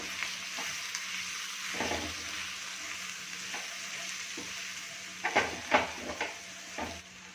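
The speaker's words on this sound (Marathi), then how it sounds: "गरम मसाला आणि आपले हे मसाले छान असे मिक्स करून घ्यायचे" Garam masala and spices are mixed in a tawa pan for an ambadi sukat dry fish fry, a soft steady sizzle with faint stirring, then a cluster of scraping utensil strokes near the end.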